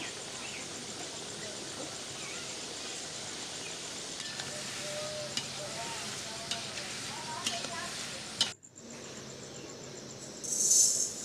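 Murali dough pieces frying in hot oil, turned side to side, making a continuous close crackling sizzle that cuts out briefly near the end; a voice talks over part of it.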